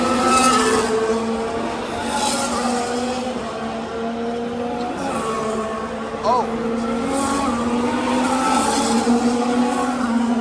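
A Formula 1 car locks its brakes during qualifying at the Miami Grand Prix, the loud engine whine dipping and a brief tire squeal cutting through near the track amid crowd noise.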